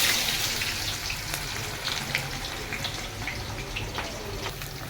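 Onions fry in hot oil in a pan alongside fish and potatoes over a fire, giving a steady close sizzle with scattered crackling pops throughout.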